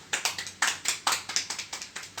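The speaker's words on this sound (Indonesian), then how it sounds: "Mari tepuk tangan kepada kita bersama." A group of mothers applauding together at a parenting and child-education session, a burst of irregular hand claps with uneven rhythm and several louder peaks, heard close with no talk over it.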